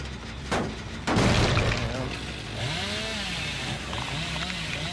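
Chainsaw rush in the game Dead by Daylight, a loud revving buzz with a thump and crash partway through, while a person talks over the game audio.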